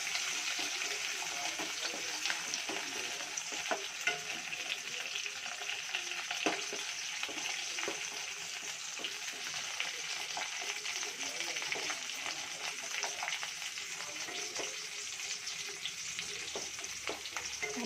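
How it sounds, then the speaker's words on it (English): Curry leaves and chopped onion fry in hot oil in a pan, a steady close crackling sizzle with occasional pops and stirring scrapes, soft and continuous throughout. "So now adding curry leaves and onion, chopped onion."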